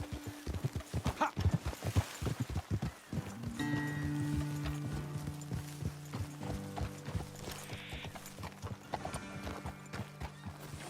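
Horse hooves clip-clopping in Red Dead Redemption 2, a quick run of close, sharp hoofbeats slowing to a walk, with a neigh, tack jingling and mechanical clicks under a sustained musical tone.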